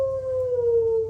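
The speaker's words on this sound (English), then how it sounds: "that's a long howl." A long, sustained howl sound effect holds one loud, smooth tone that drifts slowly downward in pitch over about a second.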